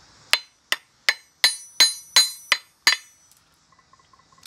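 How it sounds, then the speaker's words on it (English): Eight sharp metallic taps ring out in a steady rhythm as a hammer and chisel chip rock matrix from a trilobite fossil, followed by faint small ticks as the work pauses. "I'm just chipping off down to the trilobite"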